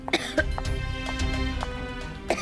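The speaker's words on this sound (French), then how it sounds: "Pourquoi est-ce que tu tousses?" A person coughs several times in short, sharp bursts in a scene from a French-dubbed Indian television drama series, close and fairly quiet, with no talking over it.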